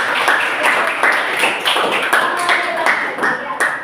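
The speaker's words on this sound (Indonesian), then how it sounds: "tepuk tangan lagi anak-anak" Schoolchildren in an Indonesian classroom clap their hands together in quick, close, fairly loud repeated bursts, with some voices mixed in among the claps.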